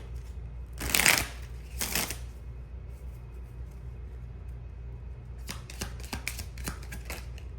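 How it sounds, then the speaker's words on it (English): A deck of cards is shuffled during a tarot reading, a couple of sharp riffling bursts followed by a quicker run of soft snapping flicks, close and fairly quiet with no talk. "Last shuffle."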